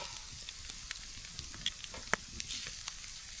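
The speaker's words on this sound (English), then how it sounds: "Think it's a good idea to make some bacon." Bacon fries on a grill over a campfire, a faint, steady sizzle with scattered small pops and crackles, close and quiet, no voices.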